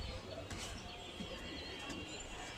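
Pigeons coo softly from a rooftop coop kept alongside rabbits, their low calls rising briefly over a steady wash of background noise with a few chirps mixed in.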